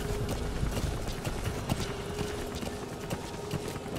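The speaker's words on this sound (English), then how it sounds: "Come on, Mr. Horsey. Are we going? Are you walking with me, Mr. Horsey?" Horse hooves clip-clop in the Metal Gear Solid 5 video game at a steady walking rhythm, fairly close and moderately loud, over a low background hum. No one speaks.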